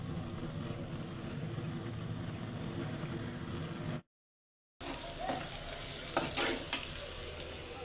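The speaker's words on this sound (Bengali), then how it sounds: "পাতাকপি ভাজি করব, ডাল তো হয়ে গেছে, এখন পাতাকপিটা বসায় দেব" Cabbage frying in a pan on a home stove gives a steady, close sizzle and hiss with stirring scrapes, briefly cutting out to silence before the crackle returns brighter and busier.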